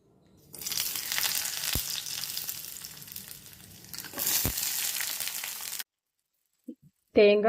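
Steady close sizzling of coconut pieces frying in ghee, with a couple of clacks from stirring, then it cuts off and a voice briefly speaks.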